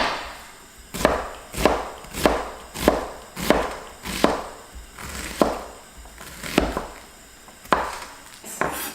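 A knife chops onion into small pieces on a cutting board for black bean noodles, about a dozen crisp, evenly spaced thuds close by with no one speaking.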